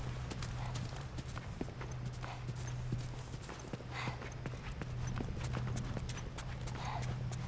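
A horse clip-clops steadily along in The Last of Us video game, hooves beating a continuous rhythm over a constant low engine-like hum and ambient wash, with no talk.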